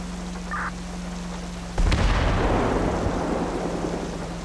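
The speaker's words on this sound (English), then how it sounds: "If you hear the loud boom, don't worry about it, but if you see fire, then it's a problem" A single loud boom of an explosion in the GTA roleplay video game, a sudden heavy blast after near silence, followed by a long rumbling decay that fades slowly.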